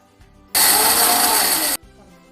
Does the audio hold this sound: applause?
no